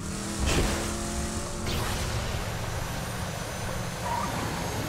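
Vehicle engine in Borderlands 2 drones steadily while driving, with a couple of louder rushes and whooshes early on and a continuous rumbling hum the rest of the way.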